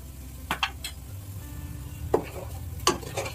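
Spices for paneer butter masala frying in a pan, soft steady sizzle with a few scraping stirs and light clinks of a spoon against the metal, close and quiet.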